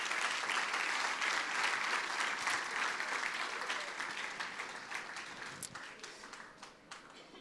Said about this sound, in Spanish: Pueden darle un gran aplauso al Señor por lo que Él está haciendo.